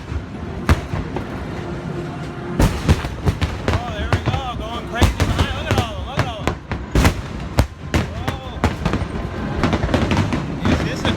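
Fireworks at Universal Studios Orlando crack and boom in rapid irregular bursts, loud and close, with whistling rockets rising between blasts and crowd noise underneath.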